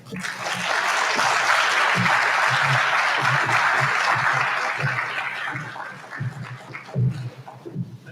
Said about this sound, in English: Another round of applause for Dr. Shavonda.